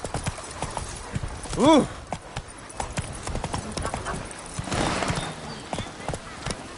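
Horse riding in The Witcher 3: Blood and Wine, close hoof clip-clops in an uneven rhythm with a short neigh early on, a voice exclaiming briefly over the steps.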